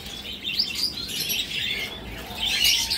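Small pet birds at a bird farm in Barishal chirp and tweet continuously, several high calls overlapping close by, with a few louder bursts and no talking.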